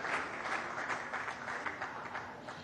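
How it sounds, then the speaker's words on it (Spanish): A small child at a birthday celebration claps its hands in a quick run of soft, rhythmic claps, quiet and fairly close. "Está aplaudiendo"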